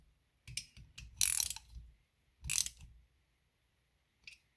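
A ratchet clicks in short bursts while the crankcase halves of a McCulloch SP81 chainsaw engine are drawn together: a few quick, close ratcheting spurts separated by pauses, then one last brief click.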